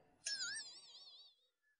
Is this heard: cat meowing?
yes